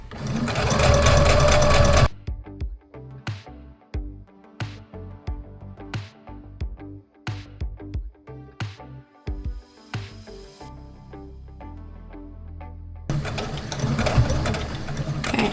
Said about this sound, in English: put your presser foot back down and continue to sew.